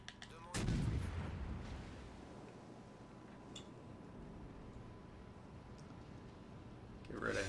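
Heavy battleship-style cannon fire from the Fuso in World of Warships Legends, a loud deep boom followed by a long rumbling decay and steady battle ambience, with another blast starting at the very end.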